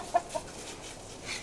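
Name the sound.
chickens clucking during morning chores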